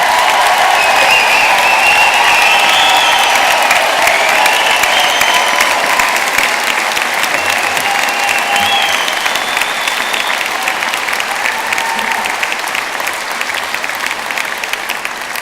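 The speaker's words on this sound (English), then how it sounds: "So on your feet and applaud those who are graduating today." Loud, sustained applause from a large audience at a university graduation ceremony in Belfast, continuous dense clapping with some cheering and whistles, easing off only slightly near the end.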